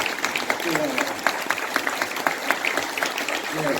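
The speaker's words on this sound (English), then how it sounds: "let's give Willie a round of applause" An audience at a catfish expo gives a round of applause for an organiser, a moderate, somewhat distant patter of many hands, with some talking mixed in.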